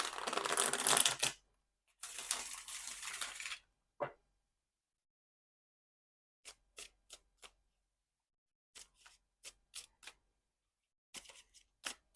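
Tarot cards shuffled in short bursts: two longer riffling passages early on, then a scatter of sharp, isolated card taps and snaps, close and quiet with no talking.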